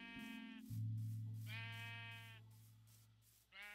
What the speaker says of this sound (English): Sup, sheep?